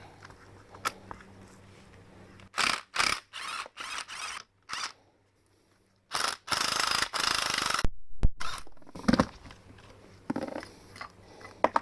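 A strut top nut on a 1999 Subaru WRX rear strut being undone with a hand ratchet while the spring is held in clamps, producing close, loud bursts of rapid ratchet clicking separated by short silences, with no talking.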